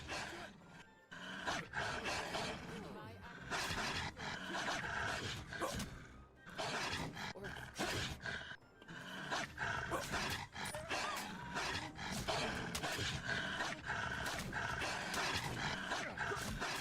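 Low, rumbling growls from three dogs in a video game, mixed with game sound effects, continuing steadily and fairly loud throughout.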